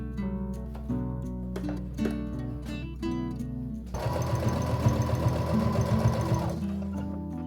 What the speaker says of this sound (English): I just started overlocking these hems on the shoulder seams